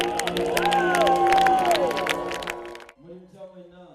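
Church members at a Paraguayan Bible school cheer and clap for a choir, a crowd roar with voices rising over scattered claps, cutting off abruptly near the end into a single speaking voice.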